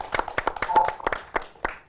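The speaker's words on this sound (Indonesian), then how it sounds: "Tepuk tangan dong buat Risa." Scattered hand claps from a small group, sharp and uneven, a handful of bursts spread over a couple of seconds.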